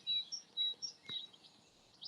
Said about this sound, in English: I think that's a tit of some kind.